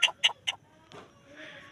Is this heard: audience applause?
no